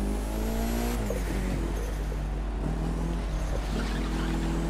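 A car engine in The Crew 2 video game revs and accelerates through a city, a steady loud droning engine with shifting pitch as gears change, no talking over it.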